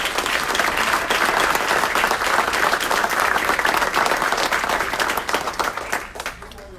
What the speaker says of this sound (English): Round of applause to Officer Ray Morris.